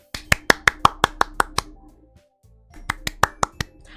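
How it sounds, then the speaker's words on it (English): Applause sound effect from the video game Doki Doki Literature Club: a short run of crisp, evenly spaced claps, about nine in quick succession, then a brief pause and another burst of six, close and dry with no voices. "The four of us applaud."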